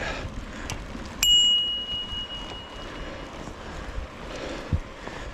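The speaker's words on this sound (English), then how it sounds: "I probably should ring my bell" A single bright ring of a bicycle bell with a lingering tone, heard over steady outdoor ambience with a faint drone, on a trail near Glines Canyon Overlook.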